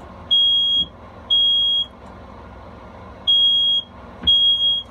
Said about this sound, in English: And there's the smoke detector going off.